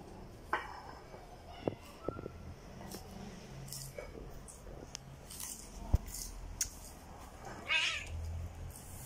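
A cat meows a couple of times at moderate distance amid a busy room with animal chewing and faint scattered noises.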